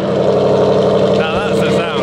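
A supercar's engine revs loud and close in a steady, rising drone, a brief pitch sweep near the end, with a voice speaking over it.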